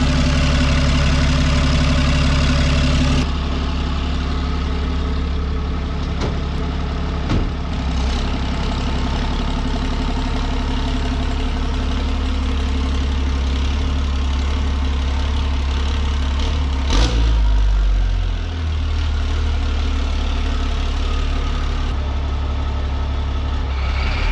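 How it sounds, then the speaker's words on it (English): A fourth-generation 6.7 Cummins diesel drag truck idles while warming up, a steady loud low rumble with a brief rev or clunk midway, close and continuous with no voices. "so we let the truck warm up a bit"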